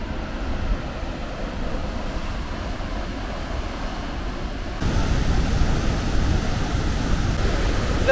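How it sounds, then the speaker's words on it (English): Caribou Falls waterfall roars as a loud, continuous broadband rush of falling water, growing noticeably louder partway through and holding steady to the end. "The sheer power of this waterfall is incredible!"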